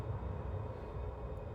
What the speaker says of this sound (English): Wow, that's a train.